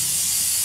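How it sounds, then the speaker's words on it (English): A single short, loud burst of aerosol chain lubricant sprays onto a motorcycle chain, a bright continuous hiss lasting under a second before cutting off. "We bought the chain spray in Baku."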